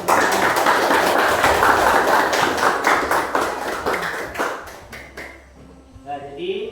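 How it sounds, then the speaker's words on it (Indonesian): Classroom applause from students after a crayon-and-cotton drawing of a swan, a dense burst of clapping that thins out and fades toward the end, with voices talking over it. "berikan tepuk tangan"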